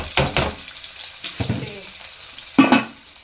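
Onions fry in a pan for a bitter-gourd masala, with bursts of loud sizzling and rattling as they are stirred, separated by quieter gaps.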